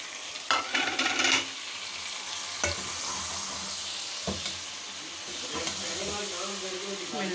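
Chicken fries in a pan with garlic, ginger and six or seven tomatoes, a steady steamy hiss and sizzle with a burst of crackling and a few clattering stirs.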